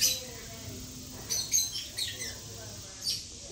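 Lovebirds squabble among themselves in a parrot garden aviary in Pigeon Forge, Tennessee, giving short, sharp chirps and squawks in a few quick bursts over a faint, quiet background.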